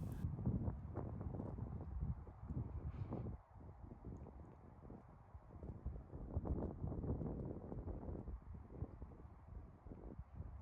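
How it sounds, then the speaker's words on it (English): Wind blows through alpine trees in Spencer Canyon on Mount Lemmon, a steady broad rushing with gusty swells and some microphone buffeting, with no voices. "I just loved sitting there listening to the wind blowing through the alpines"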